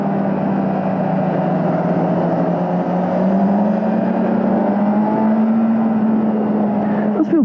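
A 2022 Kawasaki Z900 motorcycle engine drones at around 6,000 RPM while riding, its pitch rising and falling slightly, steady and loud under wind noise.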